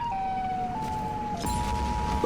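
A steady electronic siren tone from the Siren Head creature holds and shifts pitch in a few steps, fairly loud over a low background rumble.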